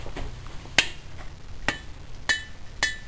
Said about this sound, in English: You know, I can kind of ding on the side and